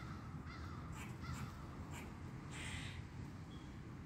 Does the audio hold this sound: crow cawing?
yes